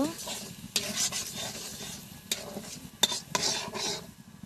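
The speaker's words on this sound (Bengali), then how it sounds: "সব মশলা দিয়ে দিলাম, কিছুক্ষণের জন্য মশলাগুলোকে ভেজে নেব।" Spices for a chicken curry sizzle and crackle in hot oil as a spoon stirs and scrapes the pan, with sharp clinks at intervals.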